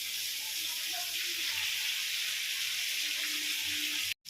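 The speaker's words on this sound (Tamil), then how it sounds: "வெங்காயம், தக்காளி, கருவேப்பிலெல்லாம் நல்லா வதங்கிட்டு நல்லா சூப்பராக வருது" Brinjal, onion, tomato and curry leaves sautéing in a pan give a steady, even sizzle with faint stirring, continuous and fairly close, no talking, ending in a brief cut to silence.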